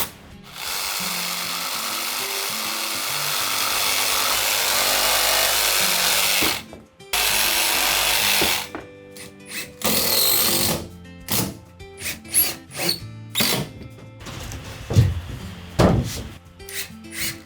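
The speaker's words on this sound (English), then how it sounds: "I use a rasp made from a bunch of hacksaw blades to clean up the edges." A homemade rasp built from a bunch of hacksaw blades scrapes along an arch, a loud sustained rasping that runs for several seconds, then breaks into shorter strokes and scattered scrapes and knocks.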